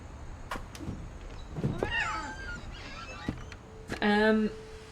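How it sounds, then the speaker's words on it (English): Cat meows from the video game What Remains of Edith Finch, several short rising calls with a clearer, louder meow near the end, heard over quiet game ambience. "Can I hear a cat?"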